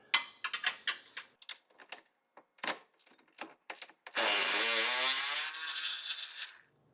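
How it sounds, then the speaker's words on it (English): A bolt is removed from a Polaris Pro R side-by-side: sharp metallic clicks and taps come first, then a loud whirring power tool spins for a couple of seconds before stopping. "pull this bolt out and get prepared to put the billet fitting up there"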